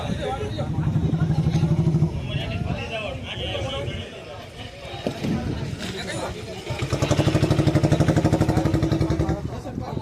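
An auto rickshaw engine putters and revs in pulsing bursts at a Jafarabad dry fish market, arriving to unload goods, loud near the start and end with people talking and crowd chatter over it.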